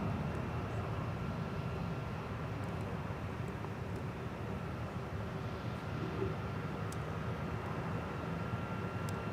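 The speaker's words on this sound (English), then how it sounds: "JetBlue 836 now departing for Boston Logan." JetBlue airliner taking off from Minneapolis–St. Paul airport for Boston Logan, a steady, broad jet roar holding at constant loudness throughout, heard from a distance with no talk.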